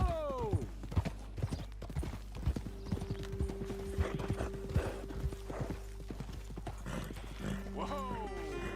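Horse hooves clip-clop in Red Dead Redemption 2 as riders slow and dismount, uneven clopping steps close by with a whinny, some creaky tack and a voice speaking over them.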